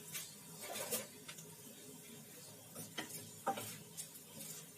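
A spoon stirs okra in a pan, giving soft scraping and clinking strokes with a faint sizzle underneath, quiet and close with no voices.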